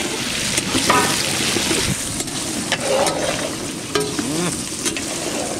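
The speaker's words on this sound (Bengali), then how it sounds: "বলছি পেঁয়াজটা কিন্তু বেশি ভাজা যাবে না। না যেহেতু আলু পোস্ত হবে, পেঁয়াজটা আমরা হালকা ভাজবো।" Steady sizzling of onion frying in a pan, with occasional scraping stirs and light clinks over the continuous crackle.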